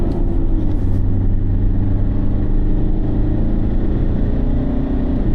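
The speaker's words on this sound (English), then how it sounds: "I'm going to see how fast this accelerates to 100 from a dead stop" A Mitsubishi Triton 2.2 litre pulling from a standstill while towing a trailer, a steady loud diesel engine drone rising gradually under load, heard from inside with no talk.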